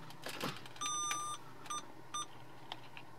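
Short electronic beeps from a car parking sensor while reversing: one long tone, then two brief ones, fairly clear over a low hum.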